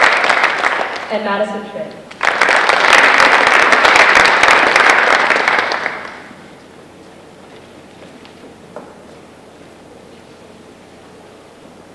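At an honor society ceremony, a voice reads a name and loud applause erupts from the audience, filling about four seconds before tapering off into quiet room tone.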